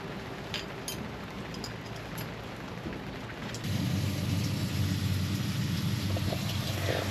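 Rain falling steadily around an outback campsite near Kings Canyon, a soft continuous patter that grows louder and denser partway through, heard alone without talk.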